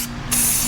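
A flat primer spray can sprays in one steady, loud hissing burst that starts partway in and continues to the end, used for priming a Suburban.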